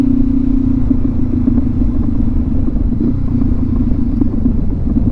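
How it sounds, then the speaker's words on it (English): Brand new KTM motorcycle idling after a crash on an Oregon road, a loud steady engine rumble with a constant low drone throughout, close by. "at least the bike still runs"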